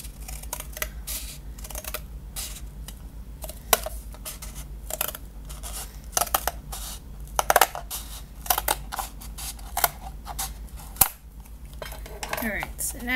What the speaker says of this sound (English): you're going to cut along that line that you've created on the side of the tape